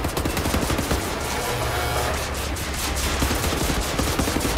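Gunfire in Wolfenstein: The New Order rattles in rapid, sustained automatic bursts, close and steady throughout with no talking.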